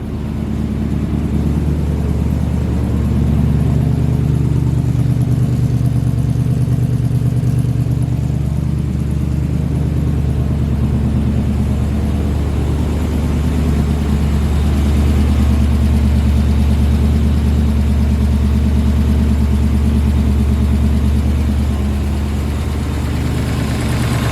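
A supercharged 6.0 LSA V8 in a GMC Syclone idles steadily at close range, a deep, even rumble with a slight lope that holds the whole time, no voices.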